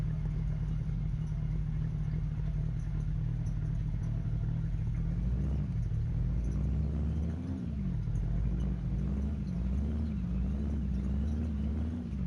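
In Car Mechanic Simulator 2021, a car engine that needs tuning runs rough at a steady idle, with a low, continuous rumble and a slight wavering in pitch that carries on throughout.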